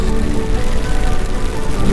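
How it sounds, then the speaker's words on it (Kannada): Heavy monsoon rain pours down during a motorcycle ride on plantation roads near Mudigere toward Kalasa, a dense, loud, unbroken roar of rain with no voices. "ಇನ್ನು ಮಳೆ ಜೋರಾಯಿತು ಗೈಸ್."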